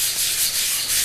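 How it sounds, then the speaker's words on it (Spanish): Steady sanding of wood with fine 400-grit sandpaper, a soft rhythmic rubbing hiss in smooth circular strokes, close by and continuous. "van a lijar en forma circular"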